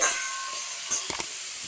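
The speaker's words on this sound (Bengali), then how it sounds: "এরপর সমস্ত সবজিটাকে টমেটোর সঙ্গে ভালো করে ভেজে নেব।" Vegetables with tomato fry in a pan, giving a steady bright sizzle with a few soft stirring knocks near the middle.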